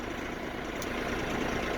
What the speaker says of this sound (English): This is my only tractor.